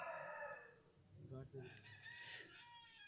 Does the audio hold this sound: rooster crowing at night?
yes